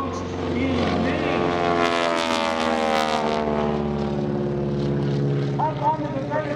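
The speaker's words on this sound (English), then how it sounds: "Up onto the vertical, pilot Marcus Paine kicking the rudder over." A propeller airplane drones steadily overhead at an airshow wingwalking display, its engine note rising and shifting as it climbs vertically with the rudder kicked over, loud and continuous with no talk.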